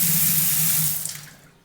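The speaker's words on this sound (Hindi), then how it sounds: "ऐसे ही प्रेशर में आपको 24 घंटा पानी मिल जाएगा।" A tap runs strongly into a stainless steel kitchen sink, a loud close steady rush of water that tapers off as the flow is shut, leaving near silence.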